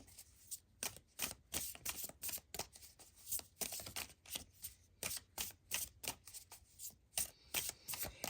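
A deck of Mystical Shaman Oracle cards is shuffled over and over, a steady run of soft riffling flutters in quick rhythm, close and quiet, with no talking.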